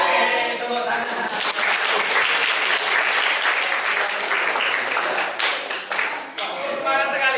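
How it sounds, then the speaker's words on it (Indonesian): A class of students clapping their hands together in a lesson, sustained and fairly loud group applause for several seconds, with a teacher's voice briefly at the start and end. "Oke, tepuk tangan."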